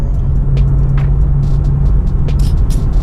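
Loud, close BMW 650i Gran Coupe with a turbo engine, a steady heavy drone and low rumble holding nearly constant under hard pull, with brief higher hisses and clicks over the top.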